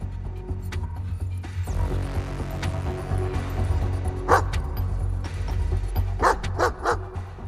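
Several dogs barking in rapid yips and bow-wows while chasing a fugitive through a tunnel, a cluster of sharp barks near the middle and a quick burst of three or four near the end over a steady low rumble.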